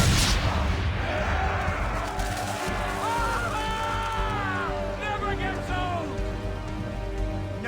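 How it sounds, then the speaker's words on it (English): Swivel guns fire at powder barrels in Assassin's Creed III: heavy booming shots at sea, followed by crackling blasts and whistling, rising streaks of exploding powder. "Now give the swivel guns a turn. More precise. Hit those old powder barrels and light up the sky."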